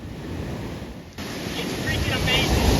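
Ocean surf rolls and washes against a rocky shore on Oahu, a steady broadband roar that builds louder toward the end, with heavy wind buffeting the microphone and faint voices in the background.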